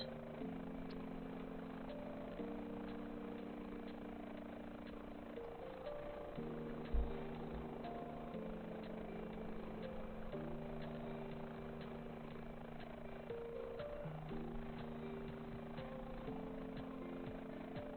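An HPG Airbus H145 helicopter flying in Microsoft Flight Simulator drones steadily throughout, its turbine whine and rotor hum holding an even level with slight pitch shifts and no talk.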